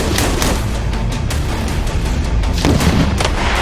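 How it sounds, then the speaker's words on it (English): A 20 millimeter cannon fires in a dense, continuous roar of rapid booming blasts, loud and reverberant throughout with no pauses. "20 millimeter cannon."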